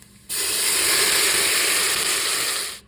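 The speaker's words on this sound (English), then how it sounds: "Our bacon has rendered out a lot of the fat, so we're going to go ahead and add just a little bit of water." Water hitting a hot pan of rendered bacon fat bursts into a loud, sustained hiss and sizzle that starts abruptly, holds for over two seconds close up, then cuts off.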